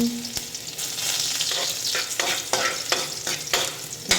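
Chopped garlic sautéing in a hot pan, a steady close sizzle with scraping stirs of a spatula recurring every half second or so, no talking over it.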